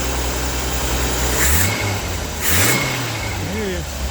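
Jeep CJ-7 engine revving up and settling back down twice, loud and close, with a steady idle rumble underneath and a voice talking over it.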